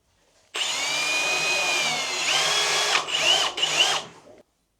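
A power drill bores during an apartment renovation, starting abruptly and running steadily and loudly up close, then stopping and restarting in two short bursts before cutting off.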